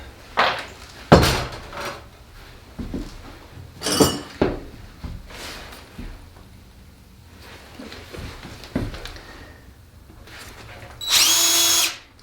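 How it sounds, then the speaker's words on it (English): A power drill pre-drills holes for 3-inch screws in plywood while building a cat scratch post, a series of short whirring bursts with clinks between them and one longer, louder run near the end. "Definitely want to pre-drill them."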